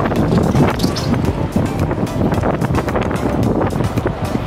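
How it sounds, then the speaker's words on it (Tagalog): Strong wind over flat open land near windmills in Pililla, Rizal roars and buffets the microphone in gusty rumbling bursts throughout, recorded while cycling. "Kaya ang lakas ng hangin."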